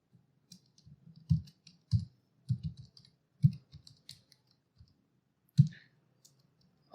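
Keystrokes on a computer keyboard while composing an email, coming in short irregular bursts of clicks with brief pauses between, close and fairly quiet, with no voice over them.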